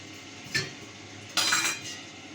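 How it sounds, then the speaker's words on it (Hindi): Metal pots and dishes clinking and knocking in a kitchen while water is poured into them, two short clattering bursts close by with a quieter knock after. "मैं पहले ना पानी भर के रख लूँ बर्तनों के अंदर"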